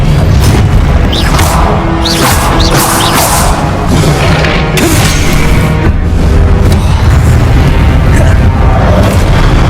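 Spell-casting in the Hogwarts Legacy video game: a continuous, loud blend of magical bursts, booms and crackling effects with a few swooping tones, densely layered throughout with no pauses.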